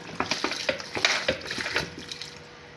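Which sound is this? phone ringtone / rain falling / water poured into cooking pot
water poured into cooking pot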